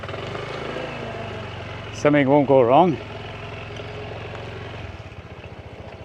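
A motorcycle engine idles steadily while the bike is walked along, a continuous low drone with a brief burst of voices breaking in partway through.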